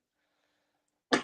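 One abrupt, fairly loud sneeze bursts out at the very end after near silence, a single short explosive puff of breath.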